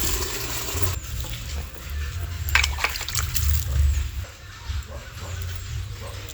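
Water splashed onto a fresh cow dung layer in an earthworm compost bed, a continuous close pouring and trickling with a brief louder burst midway, over low background rumble.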